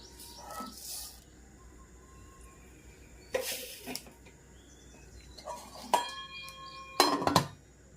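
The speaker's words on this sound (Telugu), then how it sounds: "Oil heat ఎక్కిపోయింది. ఇప్పుడు ఆవాలు వేసేద్దాం." Mustard seeds tossed into hot oil in a pan on a stove, cooking a potato fry: a few scattered short crackles and pops at about 3.5 and 6 s, then a louder sizzling burst near 7 s, against a quiet kitchen background.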